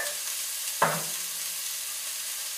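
Mirepoix of onions, celery and carrots frying in a pot with salt and pepper, a quiet steady sizzle with one brief louder crackle near the start.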